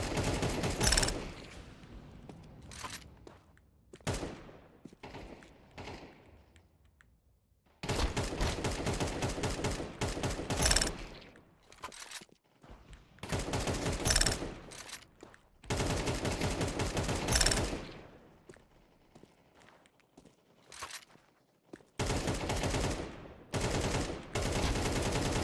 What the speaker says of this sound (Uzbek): Shuncha o'q otdim, insofsiz ekansiz, brat.